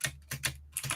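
Computer keyboard keys pressed in quick clustered bursts during cosy video game play, close and clear, with short gaps between flurries of clicks.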